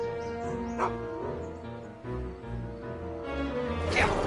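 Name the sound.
dog barking in Back to the Future video game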